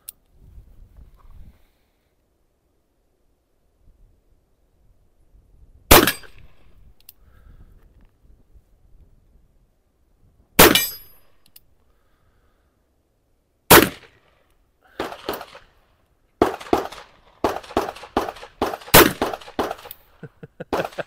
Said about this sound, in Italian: Spariamo 5 colpi